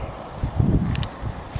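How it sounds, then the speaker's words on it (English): Wind blows hard across an outdoor microphone during a metal-detecting dig, producing a steady low rumble and buffeting with a few faint rustles and no talking. "sorry about the wind again"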